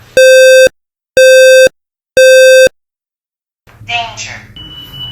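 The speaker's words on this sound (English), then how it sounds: "Halo will alarm. The alarm is loud." A Halo smoke alarm sounds three loud, evenly spaced electronic beeps during a self-test, followed by a brief trailing noise after a short silence.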